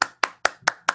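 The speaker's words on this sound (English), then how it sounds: "Give yourself a round of applause." Five sharp hand claps at an even, brisk rhythm, about one every fifth of a second, close and crisp with silence between each.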